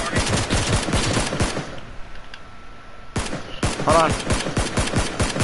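Bursts of automatic gunfire from the video game PUBG rattle in rapid runs, pause briefly, then resume with another stretch of quick shots, while a player talks over the shooting.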